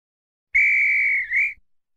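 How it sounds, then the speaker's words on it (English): A single referee's whistle blown as a halftime signal, one sustained shrill tone of about a second that dips briefly and rises again before cutting off, loud and alone with no talk. "And that's the VAR's virtual halftime whistle."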